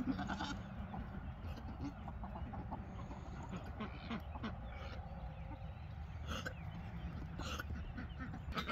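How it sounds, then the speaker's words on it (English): A goat bleats among chickens and other farm animals in the evening, several short calls standing out over a constant busy rustle of livestock and fowl at moderate distance. "I hear you, goat."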